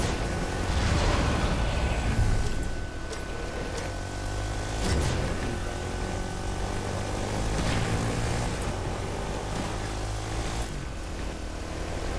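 An airplane in Fortnite drones with a steady, broad engine roar that holds at a constant level throughout, with no voices on top.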